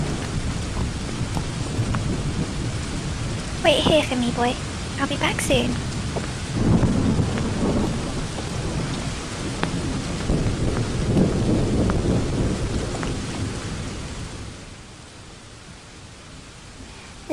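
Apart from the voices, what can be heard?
rain and thunderstorm in Star Stable video game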